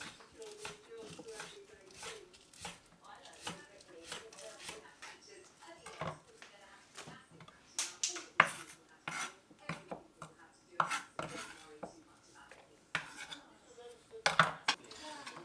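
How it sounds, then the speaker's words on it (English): A knife slicing spring onions on an angle on a cutting board, a quick irregular series of sharp taps and cuts, close and clear, with a person talking throughout. "And just slice these on, basically on an angle."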